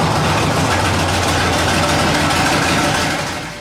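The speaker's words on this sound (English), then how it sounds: "It's an 850 horsepower Stirling inline 8 that once powered Danville, Illinois' water system." An 850-horsepower Stirling inline-8 industrial engine runs loud and close with a steady, dense rumble. The engine has four carburetors, twin distributors and 32 spark plugs and once powered the Danville, Illinois water system. It eases slightly at the end, with no talking.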